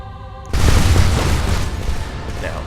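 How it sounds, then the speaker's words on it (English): A nuclear strike detonates in the real-time strategy game Planetary Annihilation: a sudden heavy boom that swells into a long, loud rumbling roar after a quiet, tonal lead-in. "Here comes the nuke. This is just how devastating these things are."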